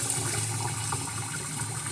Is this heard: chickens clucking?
no